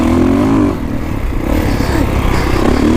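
A Kawasaki KX450X dirt bike is ridden hard across the desert, its engine revving loudly and close with a rising and falling drone, heavy wind rumble underneath and no talking.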